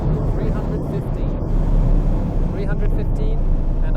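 Dense, roaring road and wind noise inside a 900 HP carbon-bodied supercar doing about 315 km/h on a highway, a loud unbroken rush throughout with a voice talking over it.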